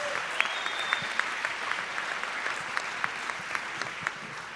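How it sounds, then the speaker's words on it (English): A graduation audience at an IE Masters ceremony applauds, a soft, distant wash of many hands with a few sharper claps poking through, steady for the whole stretch. "please let's give them a round of applause"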